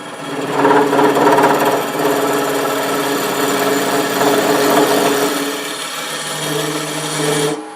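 A wood lathe takes light cuts on an extended pillar candlestick, giving a steady, loud scraping hum with a faint tonal whine, slightly stronger in the first seconds, then easing off with no talk.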